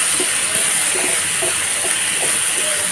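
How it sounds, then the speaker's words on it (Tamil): Tomatoes and onions sizzle in a pan for Mumbai street-food style pav bhaji, a loud steady frying hiss with small crackles and pops, no talk over it. "ஸோ நம்ம தக்காளி சேர்த்து ஒரு 3 நிமிஷம் வந்து நல்லா வதங்க விட்டுடலாம்."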